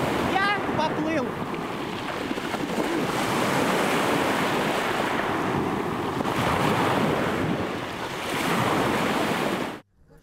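Black Sea surf washes in a steady loud roar, mixed with wind buffeting the microphone, as a man swims in the sea, continuous and close before cutting off abruptly at the end.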